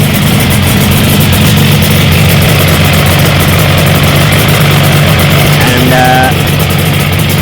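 A Suzuki RG500 two-stroke engine fitted with Sugaya exhausts runs loud and close at a steady idle, a rough buzzing drone that holds throughout, with a brief voice heard over it.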